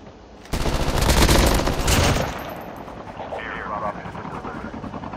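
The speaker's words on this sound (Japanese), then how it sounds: "お、通り過ぎたヘリが。" A helicopter passes by in Call of Duty Mobile, heard as a loud sudden rotor roar that fades into a lighter whirring, while gunfire rattles and someone talks quietly.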